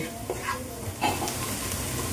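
Onions frying in a pan with salt added, giving a steady low sizzle with a few soft stirring scrapes and clinks near the start and around the middle.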